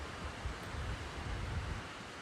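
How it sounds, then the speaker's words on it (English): Steady low rumbling wind buffeting the microphone outdoors on a motorcycle camping trip, constant and broadband with no voices. "It's pretty windy."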